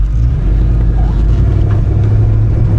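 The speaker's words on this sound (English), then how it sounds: "No, it's still cutting out. Yeah, immediately it starts cutting out." Severely misfiring Ford Mustang GT V8 rumbling loudly and unevenly at close range, its low engine drone steady but rough throughout.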